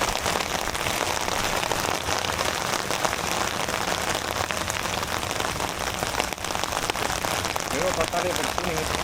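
Heavy rain falls steadily on a surface at an island fishing spot, a dense, loud, unbroken hiss and patter that fills the whole scene without pause.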